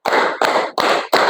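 Four sharp group hand claps at a steady rhythm, each loud and close with a short ringing tail, from a classroom ice-breaking counting game.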